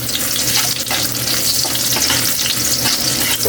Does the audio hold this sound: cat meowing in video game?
no